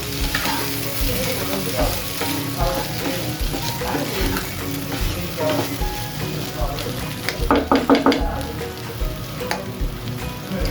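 Curry leaves fry in a pan for a Kerala-style soya chunks dry roast, making a steady, close, bubbling sizzle throughout, with occasional scraping stirs and louder crackles near the end.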